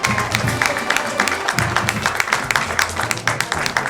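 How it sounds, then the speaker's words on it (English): A crowd applauds steadily, a dense patter of many hands clapping at once, with some cheering mixed in. "give it up for Coach Mark Snyder."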